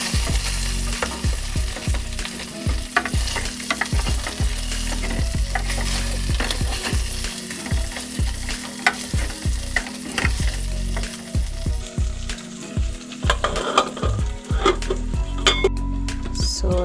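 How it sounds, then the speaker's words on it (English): Pork sizzles loudly and steadily in a pan while being turned and stirred, with repeated scraping and metallic clinks of the utensil throughout and no talking. "slowly by slowly, you start turning it so that it doesn't burn"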